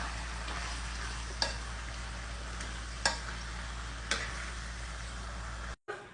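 Shrimp stir-fry with shrimp paste and stink beans sizzles steadily in a pan, a constant frying hiss broken by a few sharp clicks of a utensil against the pan.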